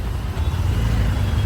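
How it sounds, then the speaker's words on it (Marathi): Heavy, slow road traffic on a congested city main road, a steady low rumble of car, truck and bus engines close by, continuous with no distinct horns or voices. "खूप म्हणजे खूप घाण ट्रॅफिक आहे"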